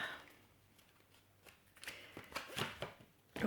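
Tarot cards being shuffled by hand, soft riffling and sliding taps that build into louder, quicker flurries toward the end, close and fairly quiet.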